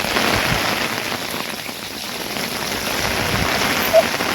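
Steady, loud rain falls at a hilltop fort, a dense continuous patter of drops striking stone and other surfaces close by, with no pause across the whole stretch and no talk over it.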